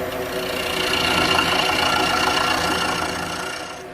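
A woodturning lathe cuts a slight taper on a wooden Christmas ornament, a steady close whirring drone with faint scraping texture that swells gently and eases off near the end.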